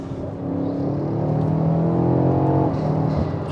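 A BMW X5M's engine revs under load with a deep, continuous growl that climbs steadily in pitch, loud and close, with no talking.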